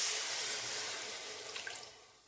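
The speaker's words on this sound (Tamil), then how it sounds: "தண்ணி கொஞ்சம் சேர்த்துக்கலாம்" Water poured into a cooking pan of masala for macaroni, a steady broadband splashing pour lasting a couple of seconds and tapering off at the end, with no talking.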